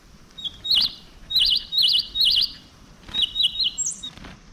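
Small pet bird chirping near a bonsai outing, a string of short bright twittering calls in several bursts, close and clear over a low outdoor background with no talk.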